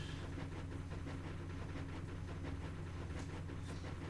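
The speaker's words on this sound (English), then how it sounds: "it's the propeller of the airship" Steady droning hum of an airship propeller in the Final Fantasy IX video game, a low continuous engine-like rumble with a faint rhythmic chugging pulse, fairly quiet and unbroken throughout.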